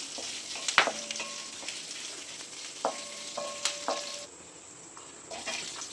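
Oil sautéing in a pan while egg gravy is being made, a continuous close sizzle broken by several sharp clinks and scrapes of a stirring spoon against the pan, with no speech.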